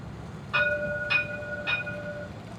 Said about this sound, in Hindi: वहाँ पे ट्राम जाएगा पीछे